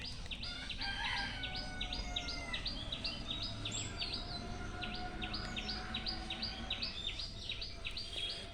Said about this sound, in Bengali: এই যে এটা ফুল গাছটা, চারদিকে পাখির ডাক।